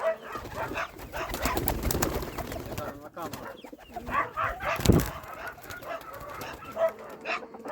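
Pigeons cooing and fluttering inside a dovecote with newly arrived birds, a steady close murmur of bird calls throughout, with a voice speaking briefly.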